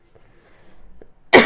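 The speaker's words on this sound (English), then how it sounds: "I feel a coughing jag coming on" A single loud, close cough bursts out at the very end after near silence, a sudden harsh rasp from a speaker about to fall into a coughing fit.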